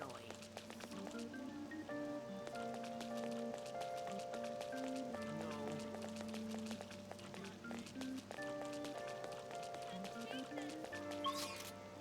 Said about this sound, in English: Oh, this rain is so annoying.